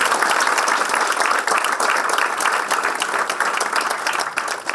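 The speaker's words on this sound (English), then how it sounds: "give a big round of applause." Audience applause at a World Tourism Day panel event in 2023, a full, loud burst of many people clapping that holds steady with a few distinct close claps.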